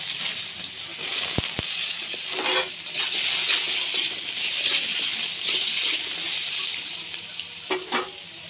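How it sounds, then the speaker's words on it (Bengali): Cut potatoes fry in hot oil seasoned with a little turmeric, sizzling steadily at close range, with sharp clinks of a utensil against the pan and occasional stirring scrapes. "আলুটা আমি অল্প ভেজে নেব।"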